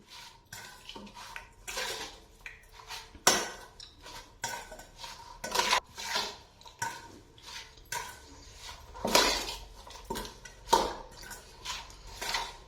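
Tomato bharta ingredients are mixed in a bowl with a spoon, giving a close series of irregular scraping clinks and wet stirring taps that rise and fall across the clip.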